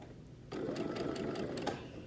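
A sewing machine stitching elastic onto a fabric face mask starts up after a quiet moment and runs in a steady, close whirring burst for over a second before trailing off.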